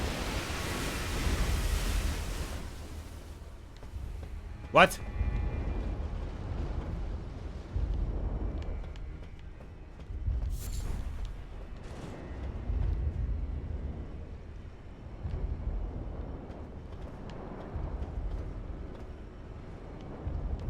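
In Elden Ring, a hippo moves through water across a flooded area, heard as a low, surging wash and heavy sloshing rumble that swells and fades continuously, with a few brief sharp accents and a single short spoken exclamation.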